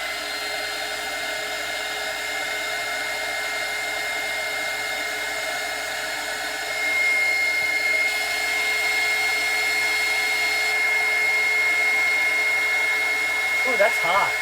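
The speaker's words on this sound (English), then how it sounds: "I'm going to hit them with the heat gun a little bit" Continuous whirring blow of a heat gun, steady and close, growing slightly louder partway through with a faint tonal whine.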